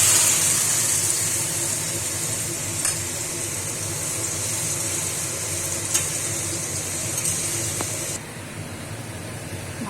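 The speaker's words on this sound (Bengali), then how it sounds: "তেলটা গরম হয়ে গেছে, এবার আমি অল্প করেই ছেড়ে দেখব।" Dried potato slices for aloo bhujia fry in hot oil, giving a loud, dense, continuous hiss and sizzle up close that eases slightly near the end.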